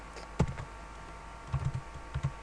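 Soft keystrokes on a computer keyboard typing a header into a Word template, a few isolated clicks and a short cluster of taps over faint room hum, with no speech.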